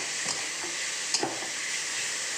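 Radish greens frying in a pan with nigella seeds and garlic, a soft continuous sizzle and hiss with a few light stirring scrapes and taps, no talking.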